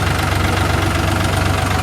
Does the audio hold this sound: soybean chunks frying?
no